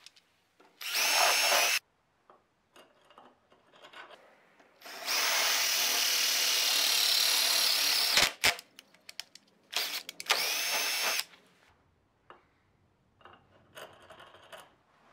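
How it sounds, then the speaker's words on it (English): A power drill whines in several bursts drilling out a metal scroll saw tension bolt piece, one long steady run in the middle, with small clinks and tool handling in the quiet gaps between. "let's drill out the non-threaded triangle piece that corresponds to this end of the"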